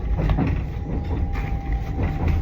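Constant rumbling drone of a train in motion, travelling from London, heard from inside a carriage, with soft rattles and a faint steady tone, no talking.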